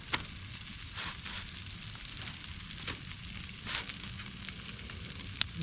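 Potatoes frying on tin foil over a campfire, a faint, steady sizzle and crackle with occasional small pops, close by and without talk.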